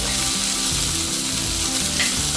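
Coriander leaves frying in a pan for a chana dal chutney, giving a steady, close sizzle with soft stirring scrapes running throughout and no voices.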